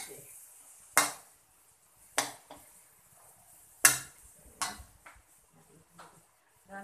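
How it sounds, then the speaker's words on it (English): A spatula scoops and turns ground meat in a pan for Thai pad krapow, giving sharp scraping knocks against the pan at irregular intervals with quiet gaps between. "The way I stir it, I kind of scoop and turn it."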